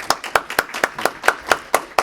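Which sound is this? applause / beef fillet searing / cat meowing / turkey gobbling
applause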